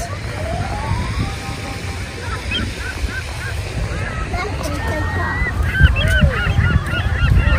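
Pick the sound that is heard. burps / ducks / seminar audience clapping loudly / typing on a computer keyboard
ducks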